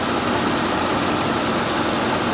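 A 1998 Bentley Brooklands R engine runs steadily while a fueling fault is being diagnosed, a constant low, broadband hum at even loudness with no change in pace and no voices.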